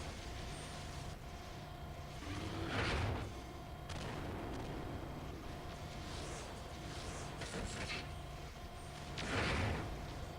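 Missiles fire in MechWarrior 4: Mercenaries as two heavy booming salvos over a steady, loud mechanical rumble.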